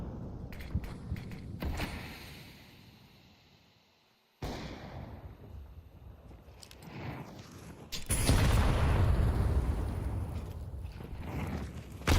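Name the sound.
grenade explosion in a shooter video game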